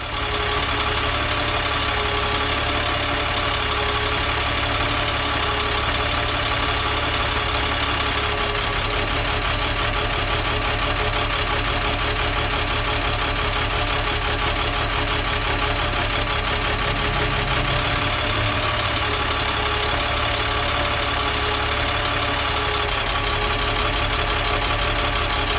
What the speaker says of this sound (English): Let's take a few seconds to listen to the sound of a test on a properly operating engine.